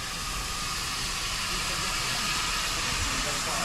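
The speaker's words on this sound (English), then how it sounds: "So shortly the steam engine will run back around." A steam locomotive at a heritage railway station on the Avon Valley Railway gives off a continuous, loud broadband hiss of steam that runs unbroken through the whole stretch.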